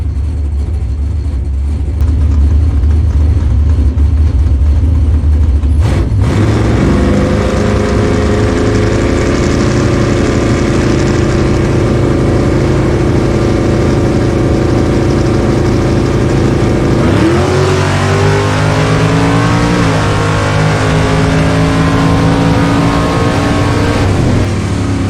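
A drag racing car idles loudly at Tulsa Raceway Park with a steady low rumble, then revs up sharply in rising sweeps of acceleration, close and dominant throughout.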